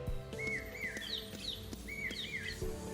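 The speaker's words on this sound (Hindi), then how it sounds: "पपीहे की पीहू पीहू," A common hawk-cuckoo, or papiha, whistles its rising pee-hoo phrases in two bright repeated bursts, mid-distance and clear over soft background music.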